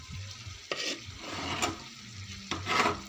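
Ground gongura paste stirred into a simmering prawn curry in a pan: soft continuous scraping and wet stirring strokes over a low bubbling sizzle, close and steady, with a few louder spoon scrapes.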